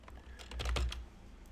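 A short, quick run of close computer keyboard taps, several keystrokes typing a brief word into a search box, then quiet.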